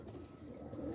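Pigeons cooing together in a loft, a soft, continuous low murmur of overlapping coos held at a steady, faint level throughout with no voices.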